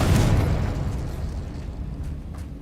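In the game Hogwarts Legacy, the Confringo blasting spell explodes with a heavy, close boom that opens at full force and then rumbles as it slowly fades.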